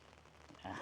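Rain falls steadily at a rural garden house, a soft, faint hiss with a slightly louder patch of spatter near the end.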